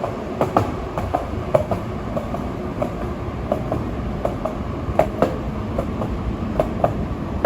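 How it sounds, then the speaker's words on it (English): A New York subway E train rolls through the World Trade Center station with steady clickety-clack wheel rhythm and periodic sharp metallic clicks, sustained and moderately loud with no talk. "the World Trade Center station here, the E train."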